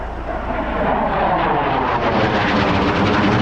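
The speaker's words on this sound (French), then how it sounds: "Ah, un avion." An airplane passes overhead near a vineyard, a steady broadband engine roar that swells slightly and holds loud and continuous throughout, with no one talking.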